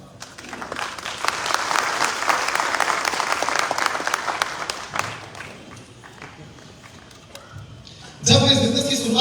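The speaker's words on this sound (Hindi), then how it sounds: "जो नाम मैं लेने जा रहा हूं उसमें तालियां जब बजेगी तो आप लोगों को अपनी जगह से खड़े होकर ताली बजाना है" A seated audience at a business event bursts into sustained, dense clapping that fades, then swells into a louder, closer round of applause at the end, with no voices over it.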